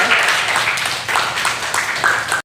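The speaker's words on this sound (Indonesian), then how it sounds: "Oke, kasih tepuk tangan lagi buat mereka." A classroom claps for students after a physics collision demonstration, a short burst of brisk group clapping in a few loud waves before cutting off abruptly.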